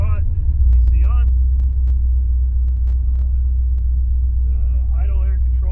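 Car engine running for a test drive after a Pro Flo 4 fuel injection install, with a loud low steady rumble close by and brief clicks, while a person talks over it at times.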